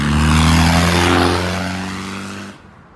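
A diesel Land Rover Discovery pulls away from a car meet, its loud engine drone close at first and then fading as it moves off over a few seconds.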